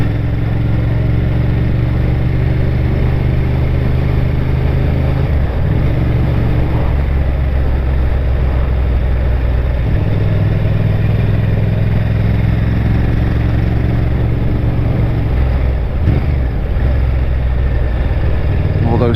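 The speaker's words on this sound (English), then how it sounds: "I'm sure they love big loud motorbikes riding through." A Honda Firestorm VTR1000 motorcycle rides along country roads with a loud, steady engine drone and rushing wind noise that hold throughout, with small shifts in pitch as the revs change.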